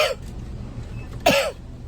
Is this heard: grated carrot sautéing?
no